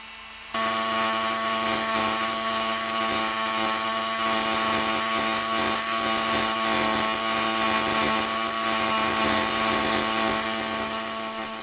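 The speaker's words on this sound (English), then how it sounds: "I think that we need to bring out some power tools." Power tool running during a Eurorack DIY synth module build, a steady close whirring motor hum with a fixed pitch that starts abruptly and continues unbroken for about eleven seconds.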